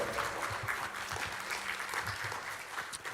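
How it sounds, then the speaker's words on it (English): A conference audience claps steadily and warmly in a hall, with dense, continuous applause at moderate distance that holds without a break. "I would like to give a warm applause for our ICOEN International Conference on Entrepreneurship"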